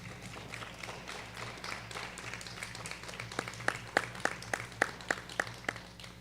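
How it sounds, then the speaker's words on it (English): Sparse, scattered clapping from a small school board audience honoring students, gathering into a few sharp, distinct claps near the end over a low hum. "so we want to applaud for all of them equally"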